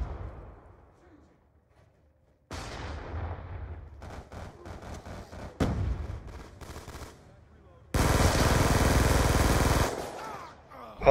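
Gunfire in Black Ops 2, including sniper shots, starts as sharp single reports and then gives way to a dense, loud burst of rapid fire near the end, with quiet gaps between.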